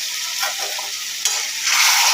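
Marinated mutton going into a spice paste of turmeric, salt and sugar frying in oil, stirred around with a steady loud sizzle that swells as the meat hits the pan.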